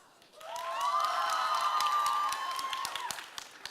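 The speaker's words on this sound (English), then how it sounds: "Applause." Game-show audience at Banzaicon 6 bursts into applause and cheering, a dense wash of clapping with bright shouted whoops that swells quickly, holds steady for a few seconds, then thins out.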